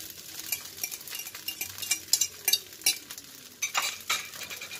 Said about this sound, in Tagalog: Ilagay ko na yung egg, guys.